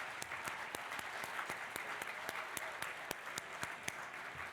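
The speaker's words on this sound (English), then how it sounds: "give yourselves a pat on the back and a nice round of applause" A room full of donors at a charity gala applauds themselves, a dense, even patter of many clapping hands with a few sharper claps standing out in a steady rhythm.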